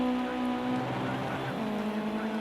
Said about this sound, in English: Rain has been relentless, has not let up at all throughout this race.